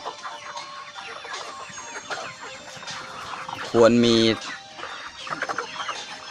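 Young laying hens cluck steadily in an overcrowded pen, with one louder, drawn-out squawk partway through, while someone talks over the birds.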